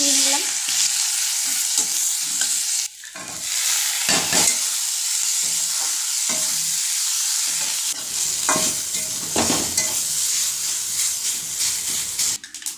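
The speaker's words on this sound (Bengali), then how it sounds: "এখন বসাবো উচ্ছে ভাজি তো প্রথমেই পেঁয়াজ" Onions fry in hot oil to start a bitter gourd stir-fry, a loud continuous sizzle and hiss close up with occasional stirring scrapes and brief dips in the frying noise.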